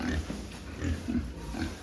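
Low, rough grunts from resting weaned pigs repeat in short bursts, several in a row, close by, over a faint steady background hum.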